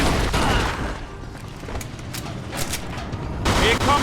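A gunfight in the game Mafia 2, with heavy bursts of shooting and booming impacts at the start and end, a lull of scattered shots between, and a voice shouting over it.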